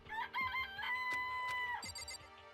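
Game chicken from Danganronpa: Trigger Happy Havoc clucks in short bursts, then holds a long squawk before more clucks, loud and close above a constant musical backing.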